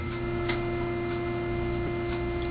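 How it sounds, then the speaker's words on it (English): A Leslie 760 organ speaker from the 1950s, with vacuum tubes inside, gives off a steady, constant electrical hum with a faint ticking texture and no voices. "sort of like the hum of the tubes, or maybe it's just the age of the unit"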